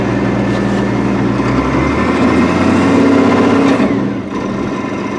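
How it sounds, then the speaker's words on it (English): A Link-Belt 2800 engine just after a hard start, chugging loudly and steadily as it lopes into a rough idle with a slight pulsing rhythm, up close with no voices. "it only fired and died maybe 6 times before it chugged and loped its way into idle"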